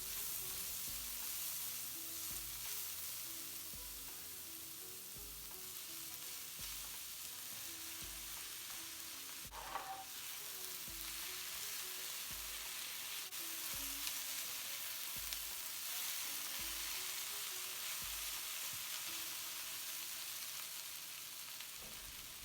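Potatoes fry in a pan with onion and garlic, giving a soft, steady, faint sizzle with occasional light stirring taps, and no talk over it.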